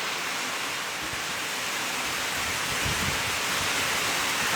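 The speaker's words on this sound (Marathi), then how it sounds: "खूप मोठा म्हणजे मोठा पाऊस पडत आहे इथे" Heavy rain pours down in Miraj, a loud, unbroken roaring hiss that stays constant and close for the whole stretch, with no voices over it.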